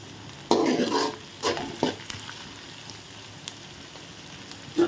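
Onions sautéing in plenty of oil for Tamil-style tomato thokku: a steady background sizzle with several louder scraping stirs of a spoon against the pan, heard close up with no talking.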